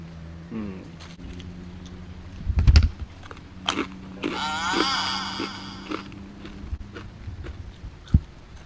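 Crispy seasoned pork cracklings with fried Chinese garlic being bitten and chewed close to the mic, a few loud crunches followed by softer chewing and a brief throaty sound amid quiet room noise.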